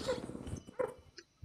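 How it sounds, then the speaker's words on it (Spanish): Dog barking, two or three brief yips spaced apart, moderately close but fairly quiet against a low background. "¿por qué escucho un perro?"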